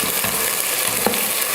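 Chopped onions and slit green chillies sauté in a hot pan toward golden, giving a steady, close, continuous sizzle with faint stirring scrapes and no voices.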